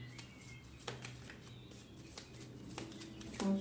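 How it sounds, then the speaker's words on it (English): Tarot cards shuffled by hand, with a few soft riffling snaps at uneven intervals over a faint background hum, close and quiet, with no voice. "Let me just shuffle one more."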